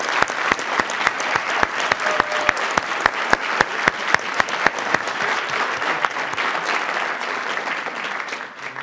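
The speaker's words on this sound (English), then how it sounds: "please stand so we can applaud you for all of the great work you do" Audience at a county school board meeting applauding standing family members of students and staff, a full crowd clapping with a few loud, regularly spaced nearby claps standing out, then fading.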